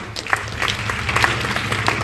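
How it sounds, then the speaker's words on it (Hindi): Audience applause at a school Republic Day celebration, a moderate patter of scattered hand claps with a few sharper individual claps, heard fairly close and without speech. "तालियों से स्वागत करें इसके।"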